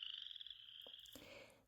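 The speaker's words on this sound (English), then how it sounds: "listening for the breeding calls of male frogs like this little guy" A male chorus frog's creaky breeding call at a woodland vernal pool, a rising comb-like trill repeated loud and close, followed by a brief rattle and a faint rustle.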